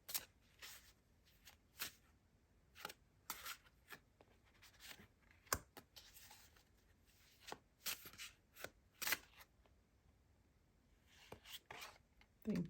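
Tarot card deck being shuffled, a run of crisp riffling bursts and soft card slides in uneven rhythm, close and quiet with short pauses between them.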